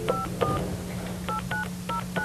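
A telephone being dialed, sounding a quick series of separate DTMF keypad tones, each a short paired beep in an irregular rhythm over a steady low hum, with no talk.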